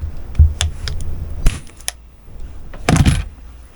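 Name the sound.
stapling fabric cushion onto folding chair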